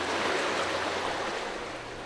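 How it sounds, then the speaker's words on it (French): The Falkenstein brook flows steadily in the early morning, a continuous close rushing and babbling of water with no voices and an even loudness throughout. "le long du ruisseau du Falkenstein"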